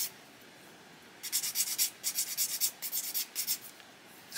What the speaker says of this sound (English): It's actually bad practice sanding over your model